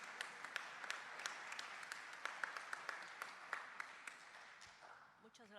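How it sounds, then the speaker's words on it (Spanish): Audience applause welcoming a psychology researcher to the podium at an academic talk: a steady wash of many hands clapping at moderate distance, with a few sharper nearby claps standing out, tapering off at the very end. "Recibamos con un aplauso, por favor, a la doctora Ana Moreno."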